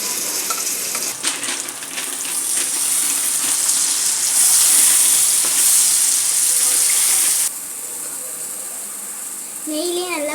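Ground jackfruit sizzles in hot ghee with a bright, steady hiss that swells as it is stirred, then drops suddenly, and a short voice comes in at the end.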